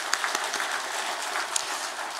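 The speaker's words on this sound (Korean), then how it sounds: "우리 장로님들께 감사의 박수 한번 하겠습니다." A church congregation claps in thanks for the elders, a soft, continuous patter of many hands with a few sharper claps standing out over about two seconds.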